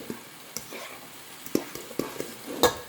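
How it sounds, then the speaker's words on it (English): A spoon stirs ricotta cheese mixture for lasagna in a bowl, giving quiet, irregular scrapes and soft clicks over a faint background. "now stir the ricotta cheese up"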